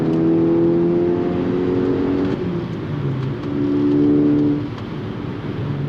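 A VW Golf R MK6 exhaust drones steadily while driving on a coffee run, with a low, even engine tone that swells under light throttle and then eases back, loud and close throughout.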